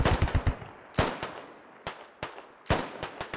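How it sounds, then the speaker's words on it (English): Heavy machine gun fire in the military shooter Squad, a series of sharp, booming bursts and single reports at moderate distance, uneven in rhythm, with no talk over it. "there is an HMG firing this direction as well"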